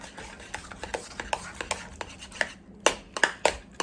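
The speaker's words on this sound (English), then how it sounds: "I'm just going to stir it all up together." Meatloaf mixture with celery and mushrooms being stirred in a bowl, giving a steady run of soft, close scraping and squelching strokes that build to sharper clacks toward the end.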